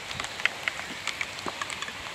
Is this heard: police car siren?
no